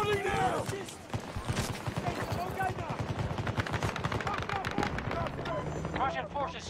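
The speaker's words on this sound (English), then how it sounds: "Taking fire from behind on that hill." Gunfire in the video game Battlefield 2042, with dense bursts of automatic shots and impacts running through the whole stretch, loud and busy, mixed with game voices and a player talking over it.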